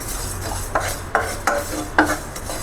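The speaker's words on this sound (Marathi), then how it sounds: "तीळ पण बारीक गॅसवरच भाजायचे, फुल गॅस अजिबात करायचं नाही" Sesame seeds roasting dry in a pan over low gas, stirred with a spoon: soft granular rustling with four distinct scraping strokes at a steady pace, close and moderate in volume, no voices.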